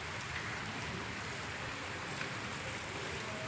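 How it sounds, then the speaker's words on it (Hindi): Light rain falls steadily as a soft, even hiss, faint and unbroken throughout with no voices. "अब देखो हल्की हल्की बारिश हो रही है।"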